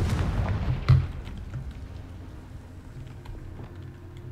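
In Hogwarts Legacy, a Confringo spell sets off one deep booming explosion near the start, followed by a fading low rumble.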